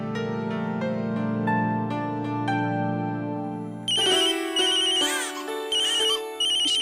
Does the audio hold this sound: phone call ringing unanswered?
yes